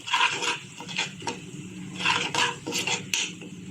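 Red chili spice mix being mashed into onions in a pan for a guar and potato dish: a metal spoon scrapes and clinks against the pan in repeated close strokes, with no talking.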